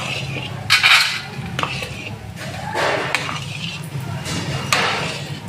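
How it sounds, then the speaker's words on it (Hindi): Walnuts being stirred into a large batch of sohan halwa in a pot, with a few loud metallic scrapes and knocks over a low steady hum, close and intermittent. "अब इसके अंदर अखरोट डाले जाएंगे। इन्हें अच्छी तरह से मिक्स किया जाएगा।"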